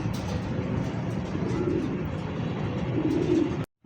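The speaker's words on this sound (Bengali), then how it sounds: "এই মুহূর্তে দেখতে পাচ্ছেন একদমই ধবধবে সাদার মধ্যে একটা লাখা কবুতর" A pure white American Lakha pigeon coos in low, rolling, continuous murmurs close by until the sound cuts off abruptly near the end.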